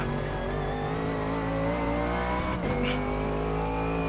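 A race car in a racing sim video game holds a loud, steady high-pitched engine whine that dips sharply as it brakes into a turn, then picks back up with a brief tire scrub, with no talking.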